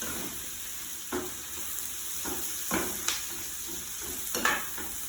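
Butter frying with vegetables in a pan while an omelette is prepared, a steady close sizzle with occasional scraping stirs and clinks, no talking.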